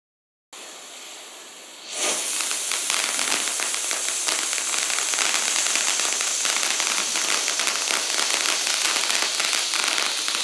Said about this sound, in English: Item number three is Unicorn Fountain from Fox Fireworks